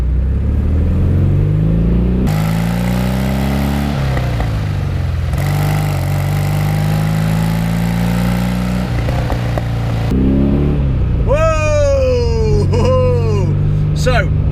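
A Porsche 912 pulls away on its first drive, engine revving and climbing through gears with rising and falling pitch, loud and close, with people talking over it.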